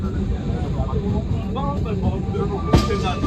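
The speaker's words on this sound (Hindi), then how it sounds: "अभी हमारी ट्रेन पहुंच चुकी है विजयवाड़ा जंक्शन पे" The Tamilnadu Sampark Kranti express train rolls into Vijayawada Junction, producing a steady low rumble with faint squeals, plus one short sharp clank near the end.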